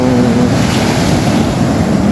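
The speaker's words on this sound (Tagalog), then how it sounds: "malakas ang alon" Heavy ocean surf crashes in a constant loud roar on the North Luzon coast, with wind buffeting the microphone throughout.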